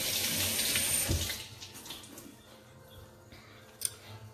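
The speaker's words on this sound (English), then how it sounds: "so I'm gonna quickly rinse my hands." A kitchen tap runs for about a second and a half while hands are rinsed, a close, steady splashing rush that then cuts off, leaving faint room noise and a small clink.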